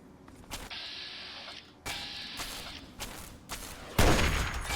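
Gunfire in the video game Fallout 3, several loud, dense bursts of shots in quick succession with brief gaps between them, each burst ringing out and fading before the next volley.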